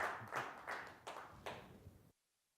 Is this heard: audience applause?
yes